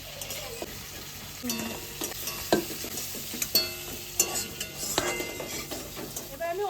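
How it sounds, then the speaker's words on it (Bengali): Lightly fried fish, part of a mustard and poppy seed dish, is lifted piece by piece from a kadai of hot oil: a steady sizzle beneath repeated metallic scrapes and clinks of a spatula against the pan. "মাছ আমি হালকা ভেজে নিয়েছি এবার আমি নামিয়ে নেব এক এক করে তুলে নেব"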